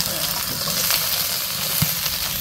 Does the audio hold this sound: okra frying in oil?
yes